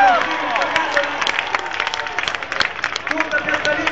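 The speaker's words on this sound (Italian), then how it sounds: "Tutta Piazza Lima saluta il sindaco con un grande applauso." Crowd in Piazza Lima applauding the mayor's arrival at a Milan Expo 2015 parade, dense steady clapping and cheering close by, with people talking and shouting over the din throughout.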